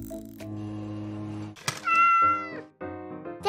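A cat meows loudly and close up in a series of drawn-out, tonal calls, with a brief thunk between the meows.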